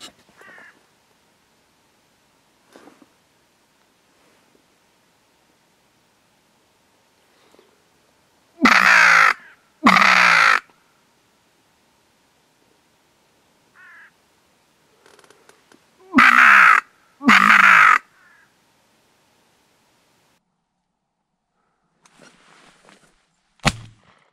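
Hooded crows cawing in two loud bursts of a couple of harsh calls each, separated by quiet stretches with faint rustles and a sharp knock at the end.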